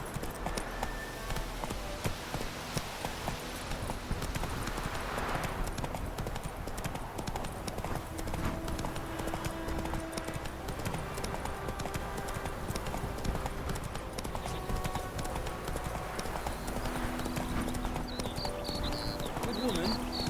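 Roach the horse's hooves clip-clop in a continuous galloping rhythm in The Witcher 3, over game music and ambience, with a voice speaking at points.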